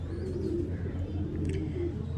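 A fancy pigeon with prized flight feathers, held in the hand at a Lucknow pigeon market, gives soft low coos against a steady background murmur.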